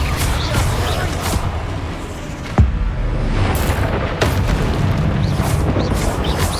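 Spell explosions in the Hogwarts Legacy video game, a stream of dull booms and bursts with one sharp impact partway through, loud and continuous under game sound.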